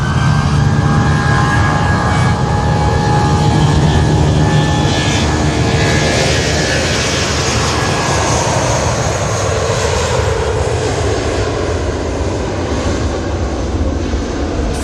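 Aircraft at Manchester Airport, a loud continuous jet engine roar that swells and then slowly shifts as the plane passes, filling the whole stretch with no talk.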